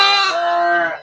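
A crossbred fat-tailed and local sheep gives a single loud, close bleat, a quavering nasal cry held about a second before trailing off.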